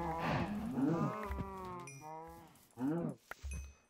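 Cows moo in the video game Minecraft, with a few short low calls breaking through alongside light speech and game sounds.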